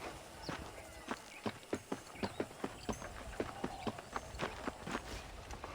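In the video game Red Dead Redemption, a horse's hooves clip-clop at a steady walking pace, a dozen or so crisp, evenly spaced hoof strikes heard fairly close on a hard surface.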